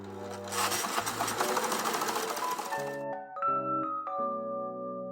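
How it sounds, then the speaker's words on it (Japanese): An overlock serger sewing machine running empty with no fabric after being rethreaded, a loud, steady mechanical whir close by, then a few short electronic tones sound once it stops. "これで空踏みをしてみます"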